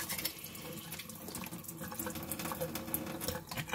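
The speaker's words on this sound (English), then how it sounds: "Now I'm going to rinse the crabs under cold running water with salt." Cold tap water runs steadily into a sink while Dungeness crabs are rinsed with salt, a close, splashy, continuous flow with small shifts as the stream hits the shells.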